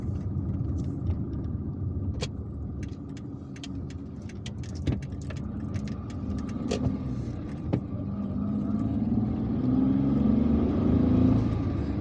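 A car drives through city streets in Algiers, its engine rumbling steadily from inside the cabin with a few sharp knocks and rattles, then a rise in engine note toward the end.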